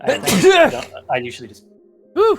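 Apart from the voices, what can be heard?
a sneeze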